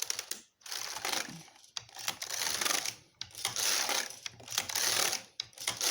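Knitting needles click rapidly in close, dense runs while a cardigan band is knit in stockinette, broken by a few short pauses between bursts.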